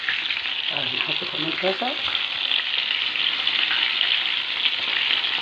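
Crispy fish frying in hot oil, a steady loud sizzle and crackle throughout, with a brief voice speaking near the start.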